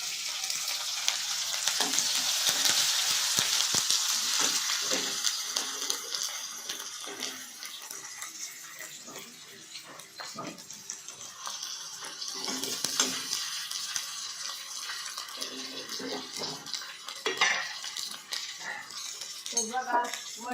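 Garlic and sliced onions fry in a pan with a steady hiss of sizzling oil, broken by repeated clinks of a utensil stirring against the pan throughout.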